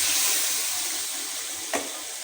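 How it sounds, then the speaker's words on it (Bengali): Lentils (dal) frying in a pan for rui fish-head muri ghonto give a close, continuous hissing sizzle, with one short clack of a stir near the end. "ডালটা ভালো করে কষিয়ে তারপরে পানি দিয়ে দিলাম।"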